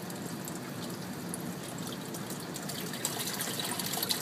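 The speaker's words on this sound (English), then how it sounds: "I'm going to go ahead and let this fill up and make sure our siphon works" Water draining through an aquaponics bell siphon from a grow bed in an indoor system, a steady rushing trickle with gurgles rising toward the end.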